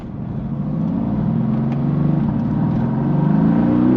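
A Mercedes-AMG engine fitted with a ZAC Motorsports high-flow cold air intake revs up hard, its loud, steady roar building and rising in pitch over several seconds with no talking.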